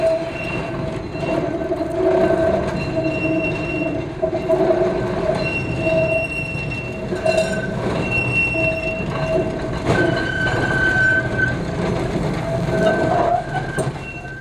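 A vintage tram runs in Blackpool, its wheels squealing on the rails with steady rolling rumble and tonal screeches throughout, loud and close, with no talk.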